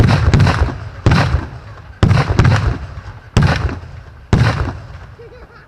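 Pyrotechnic blasts simulating a Royal Navy naval bombardment at a Tankfest tank display, five loud booming detonations roughly a second apart, each trailing off in a rumbling decay, heard outdoors without talk.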